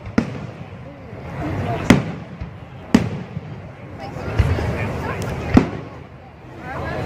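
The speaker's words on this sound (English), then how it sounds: "People go to watch the firework." Bonfire Night fireworks at a Hertfordshire allotment, heard as several sharp bangs spaced a second or so apart over a steady crowd murmur, with people talking throughout.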